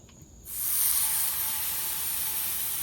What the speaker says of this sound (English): We're going to take the steaks, fat side first to render that fat.